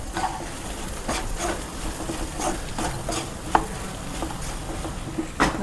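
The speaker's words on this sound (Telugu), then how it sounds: "ముందుగా కట్ చేసి పెట్టుకున్న పావు కిలో కాకరకాయలు, సరిపడా సాల్ట్, ఒకసారి తిప్పుదాం కలిపి." Chopped bitter gourd being stirred with salt in a pan for Andhra-style curry, giving soft repeated scraping and tossing strokes with a few light clinks, steady and close, with no voices.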